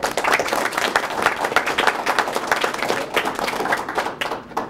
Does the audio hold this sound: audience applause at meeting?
yes